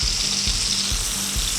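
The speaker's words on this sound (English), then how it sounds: "Once you put on the steak, it should start to sizzle like that" A steak sizzles steadily in a hot pan, a close, continuous hiss with soft low thumps underneath and no voices.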